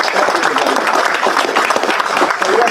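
Banquet audience at a firefighter and police officer of the year event applauding the police and fire departments, dense sustained clapping with cheers, loud and steady throughout.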